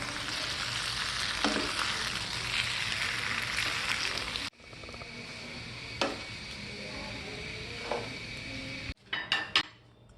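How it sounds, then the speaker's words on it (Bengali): Chicken sausage pasta stirred in a pan, with a spoon scraping and clinking against the metal over a steady sizzle. A few sharper knocks stand out, and the sound cuts abruptly twice. "ভালোভাবে নেড়ে চেড়ে নেব 3-4 মিনিট"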